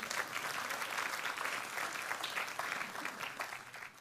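A TEDx audience in Guadeloupe applauds during a talk on biomimicry and desirable futures, a steady, dense clatter of many hands heard from within the hall, fairly soft overall and without speech.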